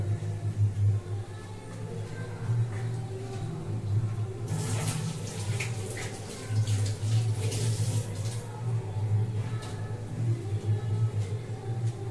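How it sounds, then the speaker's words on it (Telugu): Tap water runs steadily into a sink as hands are washed beneath it, a continuous close splashing with a brighter, busier burst of splashing partway through. "హ్యాండ్ వాష్ చేసుకుని వస్తాను"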